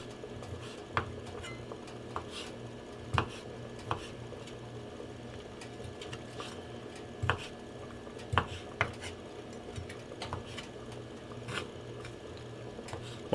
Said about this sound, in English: I'm gonna cut up 1 more piece of hot dog